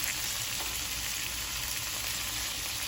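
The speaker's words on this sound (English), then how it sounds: "I want to sear the shrimp" Shrimp sear in a pan of butter seasoned with garlic powder and onion powder, giving a steady, dense sizzle and crackle that runs unbroken at even loudness.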